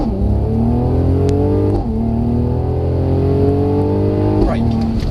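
A Mercedes-Benz C43 AMG accelerates at full power from inside the cabin, its engine note climbing steadily through a gear, dropping briefly at a shift, then rising again, loud and sustained.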